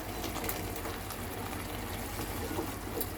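Mushroom curry gravy simmering and bubbling steadily in a pan, a continuous close, even wash of soft sizzle and bubbling with no talk.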